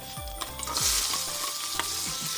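Vegetables, cucumber and pineapple sizzle loudly in a hot wok for a red-sauce pineapple stir-fry, with repeated scraping stirs of a spatula against the pan over a constant frying hiss.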